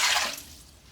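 Water poured for bread dough lands in a short, close splash that fades away within a second, with nobody speaking.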